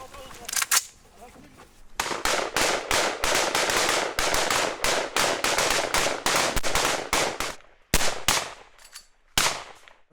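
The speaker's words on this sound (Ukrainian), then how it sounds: "Автомати одразу в дію." Bursts of rapid automatic rifle fire at a Russian Lancet kamikaze drone crack out loud and close, in several sustained volleys separated by short pauses.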